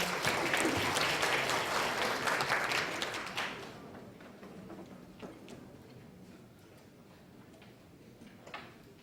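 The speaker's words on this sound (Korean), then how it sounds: "모두 큰 박수 부탁드립니다" Audience applause at an SAP Korea year-end tax settlement seminar: a full, steady round of clapping that tapers off after a few seconds, leaving scattered faint claps in a quiet hall.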